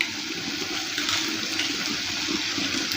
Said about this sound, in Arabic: سمعوا لي صوت القرمشة مالت الفلافل